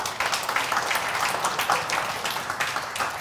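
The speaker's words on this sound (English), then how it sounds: "You can give her a round of applause." An audience at a business women's awards event applauds a panelist with steady, dense clapping, many hands close together and sustained throughout, with no speech over it.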